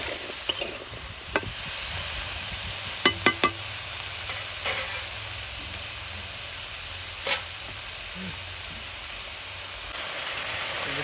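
Potato, pumpkin and eggplant frying in oil for a vegetable dish give off a steady, soft sizzle and hiss, with a few sharp clinks of utensil stirring against the pan and no talking.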